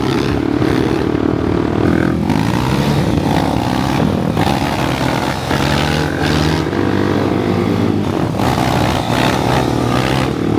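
A KTM 390 Adventure R motorcycle engine roars steadily while riding on dirt trails, loud and close with rising and falling revs and heavy rumble, no voices.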